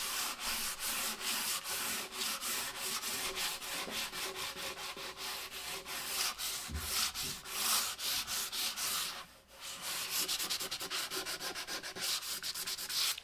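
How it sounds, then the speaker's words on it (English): A wooden chest coated in polyurethane is hand sanded lightly with a continuous, even run of fast rasping strokes. The scratching is close and steady, with one brief pause near the end. "I'm gonna go to lightly sand"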